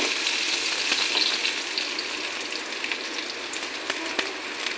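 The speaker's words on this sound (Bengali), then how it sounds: "পেঁয়াজটা একটু হালকাভাবে ভাজা করে নিই" Chopped onion lightly frying in a pan with nigella seeds, giving a steady, close, dense sizzle that holds evenly throughout with faint clicks and pops and no voices.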